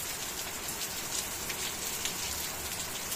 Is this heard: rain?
yes